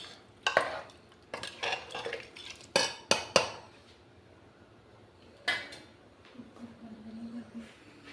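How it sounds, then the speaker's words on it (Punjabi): A spoon stirs pumpkin curry with added water in a cooking pot, giving a series of sharp metallic clanks and scrapes in bursts, then quieter scraping and a faint low hum toward the end. "ਪਾਣੀ ਪਾ ਕੇ ਸਾਰੀ ਸਬਜ਼ੀ ਨੂੰ ਚੰਗੀ ਤਰ੍ਹਾਂ ਹਿਲਾ ਕੇ ਮਿਕਸ ਕਰ ਦੇਣਾ"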